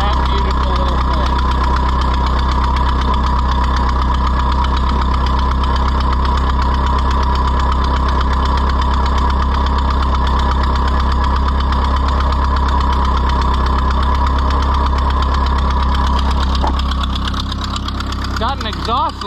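Ford 2N tractor with a Hoyt-Clagwell connection, neglected and just revived, idles steadily with a low throbbing exhaust leak, loud and close throughout, with a brief change near the end.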